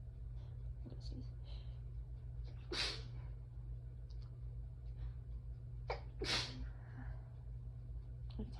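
Two strong sneezes from one person during an allergy attack, about three and a half seconds apart, each a sharp broadband burst over a steady low hum, with soft breathing and sniffles between them.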